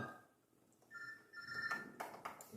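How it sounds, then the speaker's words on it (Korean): A telephone rings during a church prayer service, with several short electronic ringtone bursts that start faint and grow more prominent, heard fairly quietly in the room. "전화가 왔습니다."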